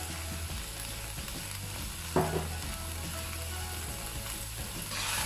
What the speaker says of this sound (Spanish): Removemos. Que no nos quede ni un solo grano blanco.